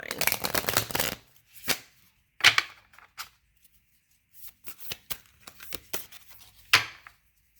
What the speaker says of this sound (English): Let's shuffle these because I want to use one card on each sign.